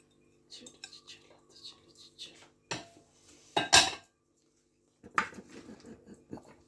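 Tomatoes and onions for a Mediterranean chickpea salad being tossed in a bowl: scattered clinks and scrapes of utensils against the dish, with a few louder bursts, close and otherwise quiet.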